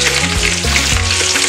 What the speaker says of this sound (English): So right now I'm going to start the frying.